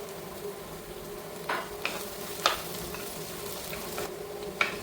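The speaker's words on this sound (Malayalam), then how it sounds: "ഇത് നല്ലവണ്ണം വഴറ്റിയെടുക്കണം." Onions with green chillies and curry leaves sauté in a pan for a Kerala-style drumstick leaf curry, giving a steady low sizzle with a few soft stirring scrapes and spatula clicks, alone and fairly quiet.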